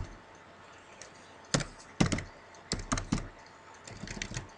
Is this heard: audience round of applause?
no